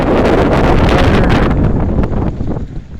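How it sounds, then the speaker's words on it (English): Strong, steady wind gusts buffet the microphone on a motorbike ride beside Lake Murray in 27°F cold, a loud, broad roar that eases slightly toward the end. "I don't know what it is with the wind. It's windy and wavy."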